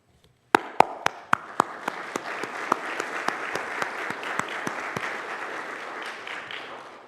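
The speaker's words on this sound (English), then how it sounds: "Round of applause. Well done." A crowd applauding at a celebration of life memorial gathering, opening with a few sharp isolated claps that quickly swell into sustained, evenly dense clapping before tapering slightly at the end.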